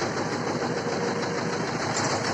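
A T-25 tractor engine runs steadily at idle after its hydraulic distributor repair, a continuous, fairly loud mechanical drone that stays unbroken from start to finish with no voices.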